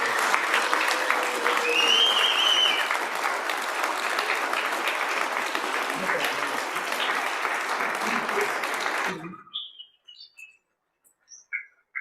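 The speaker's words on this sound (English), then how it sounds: "let's give them a round of applause." A state House chamber fills with sustained applause for county commissioners seated in the gallery, dense steady clapping for about nine seconds before it stops abruptly, leaving near silence.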